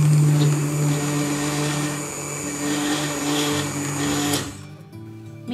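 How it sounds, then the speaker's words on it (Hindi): A loud, steady motorized whirring of a kitchen mixer grinder running continuously, then cutting off abruptly near the end. "मिक्सर हमारा ब्लेंड होके रेडी है।"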